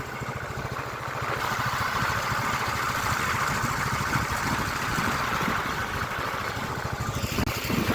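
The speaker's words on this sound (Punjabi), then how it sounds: "ਤੁਹਾਡਾ ਬੁਲਟ ਸ਼ੂਕ ਦਾ ਜਾ ਰਿਹਾ ਹੈ" Royal Enfield Bullet motorcycle engine thumping steadily while riding along a road between Trivandrum and Kanyakumari, a continuous close, loud drone with wind rush and no voices.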